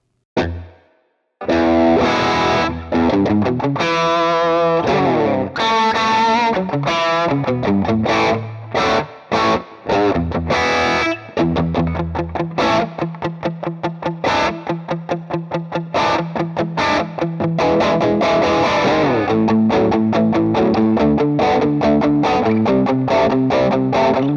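An overdriven lead guitar plays fast phrases and sustained notes through a crunchy, chimey Vox-style amp tone from a Hotone Pulze Mini, loud and continuous after a brief opening strum.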